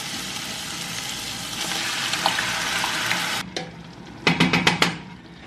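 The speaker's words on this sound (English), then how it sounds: "The meat is still simmering away." Ground beef and onion mixture with pasta sauce cooking in a pan, a continuous bubbling sizzle followed by a short burst of sharp scraping stirs near the end.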